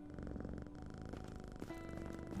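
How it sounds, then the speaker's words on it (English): Cat purring in a video game, a soft, steady rumbling purr that continues evenly across the short span, faint and with no one talking over it. "Oh, look, there's a kitty cat!"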